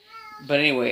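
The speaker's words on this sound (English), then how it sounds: "Excuse my cat" A pet cat meows loudly and close by, with harmonic, drawn-out cries in the second half, just after a person speaks briefly while cross-stitching.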